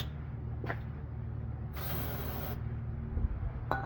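A Nissan 200SX engine cranks and churns after a dose of starter spray, giving a steady low mechanical rumble with rattling, ratchet-like clicks and a short hissing burst partway through, close and fairly loud.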